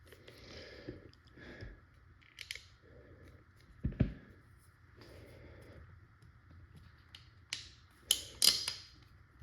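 Parts of a Tippmann TMC less-lethal launcher lock together with scattered quiet clicks and scrapes, including a sharper snap midway and a cluster of crisp clicks near the end, close and otherwise hushed.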